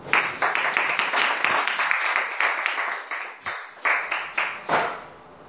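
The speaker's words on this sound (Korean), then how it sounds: "박수였습니다" Steady applause from a school lecture audience, dense and continuous at first, then thinning into a few separate bursts of clapping before fading out.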